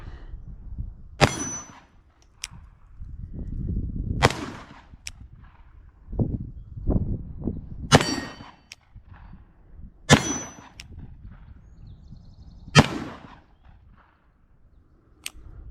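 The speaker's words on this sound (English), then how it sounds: "we'll just take 6 shots. Hopefully I'll get all 6 to fire" Shots from an 1851 Navy .36 caliber black powder cap and ball revolver loaded with about 30 grains each and fired with old homemade percussion caps, sharp loud cracks spaced a couple of seconds apart outdoors with ringing echo.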